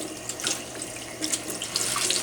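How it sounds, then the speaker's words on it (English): Water runs steadily from a faucet while gloves are washed by hand, a continuous close splashing stream that surges and spatters in uneven bursts. "sitting here washing gloves with my water"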